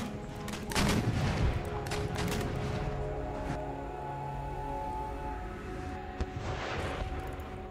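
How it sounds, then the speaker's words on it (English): Cannon and artillery fire in Empire: Total War, a dense battlefield barrage of booming shots and volleys with heavier blasts near the start and again near the end, over continuous game ambience. "It's a great artillery shot against that horseman."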